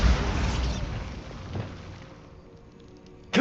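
Bombarda spell explosion from the game Hogwarts Legacy: a broad, rumbling blast that fades over a couple of seconds, followed by a sharp new burst at the end.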